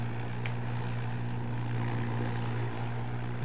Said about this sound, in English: I'm stalling my plane here to go nose down.